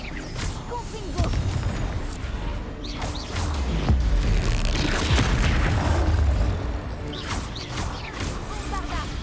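Confringo spell explosion in the video game Hogwarts Legacy, heard as loud booming blasts with crashing impacts, set among other spell effects and game noise.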